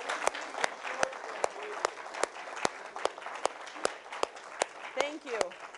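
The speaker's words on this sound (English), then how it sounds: "let's give them a round of applause." An audience at an honor flight reception at an American Legion post claps steadily for the trip coordinators and photographers, with sharp distinct claps and a voice speaking over the applause.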